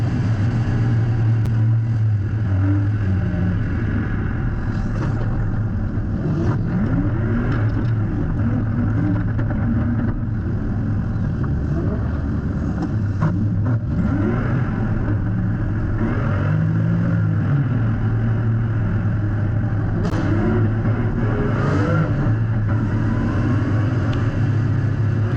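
Car drifting down a mountain road, its engine droning steadily and loudly with repeated rising and falling revs, and no talking.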